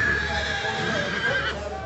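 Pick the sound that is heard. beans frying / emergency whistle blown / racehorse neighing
racehorse neighing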